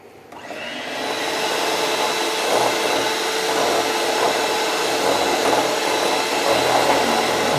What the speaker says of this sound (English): pick up the mixer and then start to mix the sugar and the egg yolks together